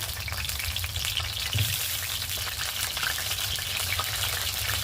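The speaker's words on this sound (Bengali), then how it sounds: "এবার আমরা তেল দিচ্ছি, তেলটা দিয়ে সবজিগুলো ভেজে নেব।" Vegetables frying in oil in a small wok for khichuri, a steady, close sizzle with a faint crackle that stays loud and even throughout, with no voices.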